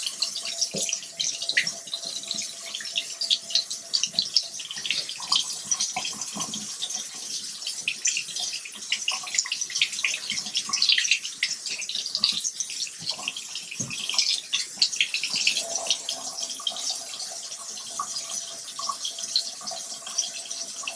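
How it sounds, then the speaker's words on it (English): Tap water running into a sink while a makeup brush is rinsed, a steady splashing stream with small fluctuations throughout, fairly quiet and without any talking. "that water getting rid of all of that bacteria"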